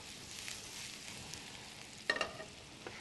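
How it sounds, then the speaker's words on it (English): Shallots sautéing in a pan, giving a faint, steady frying hiss close by, with a couple of brief clatters of a utensil against the pan partway through. "I'm going to add the shallots"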